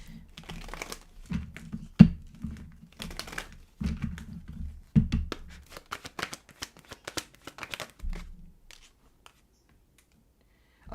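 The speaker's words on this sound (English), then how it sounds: "I try to shuffle it in front of you guys instead of in front of the mic" Cards being riffled and shuffled in repeated bursts, crisp and close, with flapping, clicking bursts that fade out near the end.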